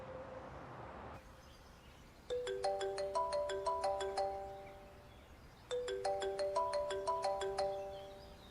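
A telephone ringtone plays two bursts of bright, rapid chiming tones with a gap between them, clear and alone after a short stretch of faint background murmur.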